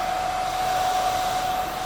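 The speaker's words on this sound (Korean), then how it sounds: "드라이기로 일단은 그래도 열을 줘요." A hair dryer blows hot air onto hair during a haircut, making a loud, steady whooshing roar with a constant motor whine and no pauses.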